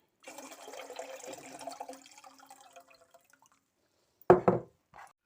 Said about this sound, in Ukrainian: огірочки позливаємо назад у каструлю воду